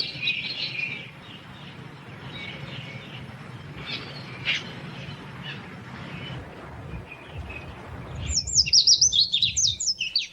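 Birds of the Galapagos Islands, where the most endangered species nests, call in the moist volcanic uplands: a burst of bright, rapid chirps and tweets near the end, after a long stretch of steady outdoor background noise.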